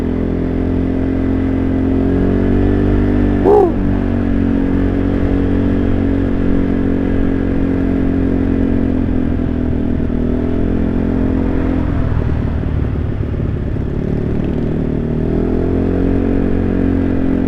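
Motorcycle engine running and revving on a morning ride past a market, a loud continuous low rumble with a sharp rising rev early on and rougher revs later.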